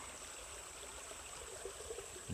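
A creek flows steadily in the Uwharrie backcountry, a soft, continuous wash of water that stays faint and even throughout, with no voices.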